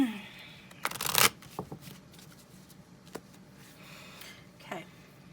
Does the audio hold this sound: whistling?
no